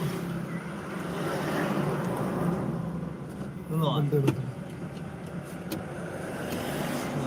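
A car pulls away on a road heading toward Trichy and Kumbakonam, a steady low engine and road rumble with wind noise heard from inside, while a person speaks over it.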